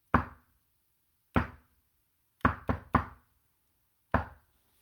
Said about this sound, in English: Scorpio Apophis knocks